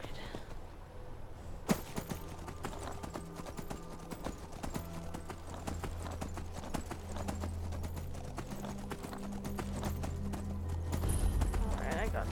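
A horse's hooves clip-clopping steadily in Skyrim, a continuous walking rhythm under a low droning background, with speech mixed in over the hoofbeats.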